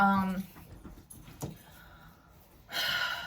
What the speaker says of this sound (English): Okay, sorry. That was my dog.